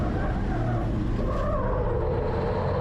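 Onboard racing truck at speed: a loud, constant engine roar with tyre scrub and skidding noise blended in, continuous and close throughout.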